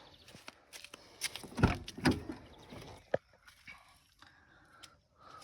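Handling the door of a 2010 Nissan Qashqai+2: a few clunks and rustles, then a sharp latch click, followed by quieter scraping and creaks, close by.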